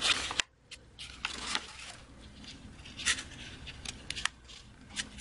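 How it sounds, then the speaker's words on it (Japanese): A sheet of A4 paper being creased and folded into an origami box, with soft crisp rustles and a few sharp pressing swipes, close and quiet with no talk. "この線と下の線が合うように重ね、この斜めをスッと折ります。"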